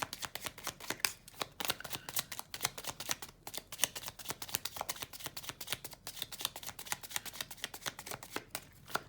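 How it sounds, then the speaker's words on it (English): Tarot cards are shuffled repeatedly in quick riffling bursts, a soft crisp flutter close by with brief pauses between shuffles. "And then one more shuffle"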